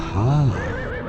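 A single horse whinnies close up in the adventure game Limbo of the Lost, a loud rising-and-falling neigh lasting about half a second, followed by a faint low rumble.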